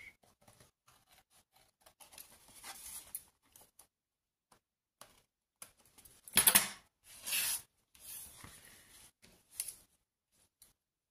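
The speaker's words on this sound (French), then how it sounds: "Je vais couper parce que ça me dérange." Scissors cut paper for a collage in a few short, close snips and rustling slices, scattered across a quiet room with soft handling sounds in between.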